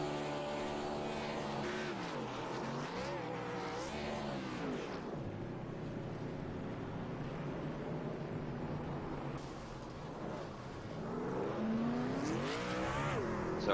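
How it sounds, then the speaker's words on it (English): A race car sits nearly still on a Texas oval and burns its tires off, the engine revving hard in rising and falling sweeps with a harsh tire roar. A brief surge closes it. "I like it when they do that, when they're moving still and then they start burning the tires off."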